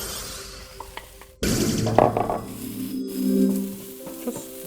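Curry paste roasting in a pan gives a soft, close sizzle with bursts of stirring and scraping that swell and fade, with no voices.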